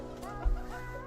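Bantam chickens clucking softly in a new coop, a brief, faint cluck or two, close by and without talk.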